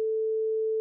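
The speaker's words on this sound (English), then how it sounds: "two tuning forks of the same pitch, get near to one another, inciting one of those objects to vibrate, in this case, by striking one of the tuning fork" A struck tuning fork rings with a single pure, steady tone, loud and unwavering for just under a second with no other sound.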